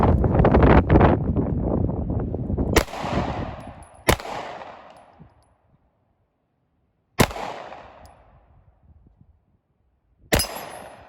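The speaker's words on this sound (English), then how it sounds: "now we're up with the Glock 19. So let's throw some rounds through it" A Glock 19 pistol fires outdoors: an opening burst of rapid shots is followed by three or four sharp, loud single reports spaced a few seconds apart, each trailing off in echo, with wind noise on the microphone.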